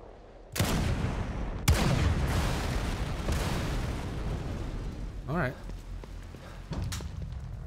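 Explosions in the horror video game The Evil Within 2, played in first-person mode: two sharp, loud blasts each followed by a long rumbling roar, with a smaller burst and crackling debris after them.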